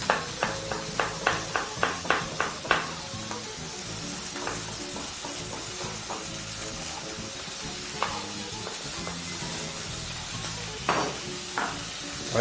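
Teriyaki chicken sizzles in a frying pan alongside pineapple, peppers and white onion, a steady frying hiss broken by a run of quick stirring scrapes and clinks early on, heard close up.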